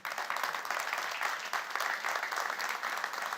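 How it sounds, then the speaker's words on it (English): Sustained applause from a large audience, steady and even throughout, heard at a moderate distance with no voices above it. "This applause is for you"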